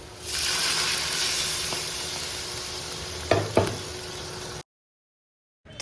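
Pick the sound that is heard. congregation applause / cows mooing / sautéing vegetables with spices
sautéing vegetables with spices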